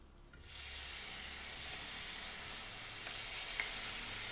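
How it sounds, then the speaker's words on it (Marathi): Grated jaggery melts in a little ghee in a pan, giving a faint, steady sizzle that hisses softly and evenly throughout with no voices. "आता एक थोडंसं तूप घालून त्यात किसलेला गूळ टाकूया"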